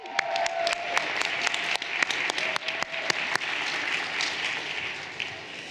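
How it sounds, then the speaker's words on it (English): An audience applauds grantee partners standing on a stage, a steady, moderately quiet patter of many hands with a few sharper, closer claps standing out, continuing evenly throughout. "Let's give them a huge round of applause."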